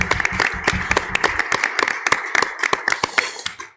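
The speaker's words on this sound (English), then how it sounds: "I'd just like to propose one more round of applause for all of the distinguished panelists" Audience applause for panelists at a social justice lecture panel, a round of clapping with distinct sharp claps over a dense patter that thins toward the end.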